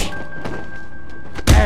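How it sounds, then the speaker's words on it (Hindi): A punch from Batman lands with a heavy thunk during a Batman: Arkham Asylum fight, one loud close impact near the end after quieter game noise and a steady tone. "मेरा पंच तो हमेशा टकले पे ही पड़ता है"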